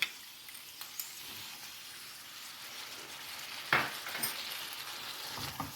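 A soft, steady sizzle in hot oil, with a sudden louder splash and crackle partway through as a spice paste is added for samosa filling, plus light stirring clicks.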